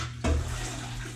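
Water gushes from a tap into a kitchen sink during turkey prep, starting abruptly after a brief quiet moment and then running as a steady, close, even rush.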